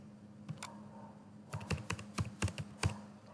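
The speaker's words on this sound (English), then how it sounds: "Now I am pressing the space." Computer keyboard keys, including the space bar, struck in a quick run of sharp clicks, first a couple of isolated presses, then a denser cluster of firm taps, close up with no talking.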